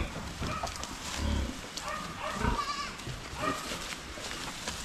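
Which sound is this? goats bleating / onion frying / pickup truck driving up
goats bleating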